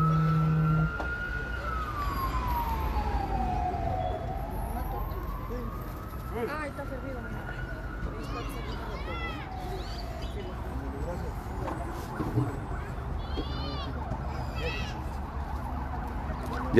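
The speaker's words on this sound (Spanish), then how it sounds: "oiga nada más el chillar de las ambulancias" An ambulance siren wails outside a hospital in Mexico, its rising and falling pitch sweeping over steady traffic rumble and a few bird chirps at moderate distance.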